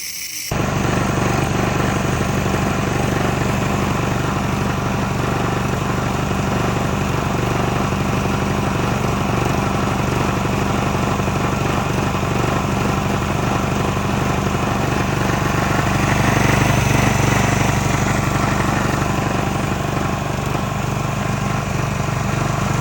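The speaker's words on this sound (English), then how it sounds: "I'm gonna try to start the engine to see if we'll be pumping water with pressure here." Small gasoline engine on a cheap secondhand pressure washer: it catches almost at once, then runs loud and close with a constant buzzing drone for over twenty seconds, swelling slightly partway through.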